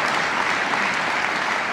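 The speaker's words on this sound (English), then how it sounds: "Let's give her a round of applause for the tremendous work" A round of applause at a Harvey Milk Diversity Breakfast honoring an individual, steady dense clapping from a crowd filling the room evenly throughout.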